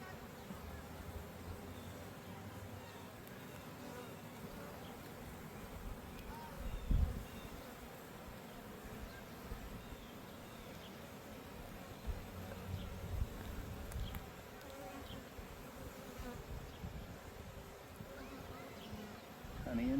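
Honeybees humming steadily around an open hive during an inspection on a fine, dry day, a continuous low buzz at close range with a few louder swells and quiet voices talking underneath.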